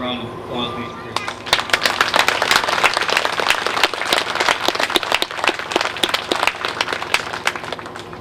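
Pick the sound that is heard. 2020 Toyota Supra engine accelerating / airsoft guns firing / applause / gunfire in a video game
applause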